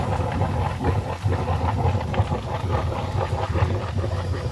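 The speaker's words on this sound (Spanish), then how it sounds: "¿Están escuchando cómo hierve ahí abajo?" Gas vents in a volcanic cave hiss and bubble with a steady, rough boiling rush, a continuous low roar filled with faint crackles.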